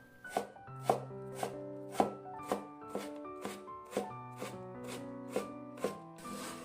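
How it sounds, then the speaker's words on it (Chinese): A knife chops a carrot into small dice on a cutting board, about a dozen crisp, evenly spaced taps with a light ringing tone, close and clear with no talking. "最后给它切成小碎丁。"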